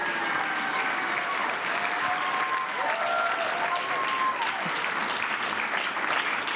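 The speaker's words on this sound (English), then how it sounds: "How about a big round of applause for Rush Hill?" Audience applause at the Newport Chamber Honors awards evening, where the crowd honours a citizen of the year: dense, continuous clapping from a large room that holds steady throughout.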